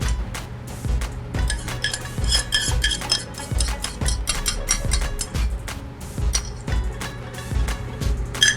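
Plating cooked lamb with sauce: utensils scraping and clinking against dishes in a steady series of close, repeated taps and rubs, with little talk.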